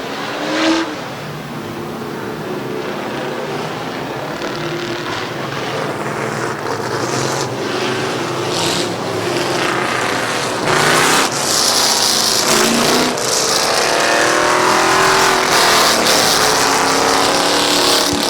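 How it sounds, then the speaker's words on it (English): Street stock race cars roar through a heat race at Midvale Speedway's fall classic, engines droning and swelling as cars pass, the sound surging louder and harsher toward the end. "So final heat race for the street stocks."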